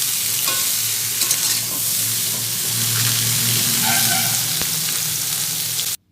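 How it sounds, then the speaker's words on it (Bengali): Potatoes and cauliflower fry in hot oil in a wok, giving a loud, steady sizzle with faint stirring for about six seconds before cutting off abruptly. "আলু ভাজা শুরু করে দিয়েছি।"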